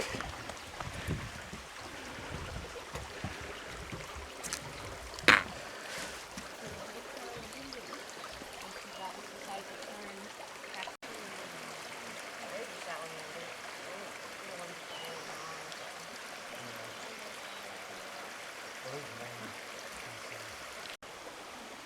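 Soft, steady rushing of a creek in a redwood forest flowing in the distance, continuous and faint, with one brief knock partway through.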